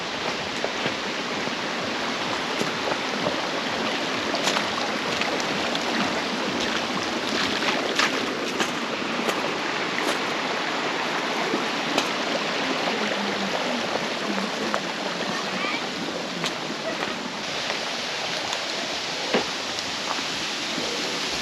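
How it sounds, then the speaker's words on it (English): Water splashes continuously near a pond on a hillside preserve, a steady rushing wash with scattered sharper splashes and drips throughout, fairly close and with no talking. "I hear more water splashing around up here"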